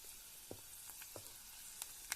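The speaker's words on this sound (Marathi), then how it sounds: "आता आपल्या तेलाला उकळे आले लसणाची मस्त फोडणी तयार होते" Garlic tempering in hot oil for a chutney, a quiet sizzle with scattered soft pops and crackles, faint and close, no voices.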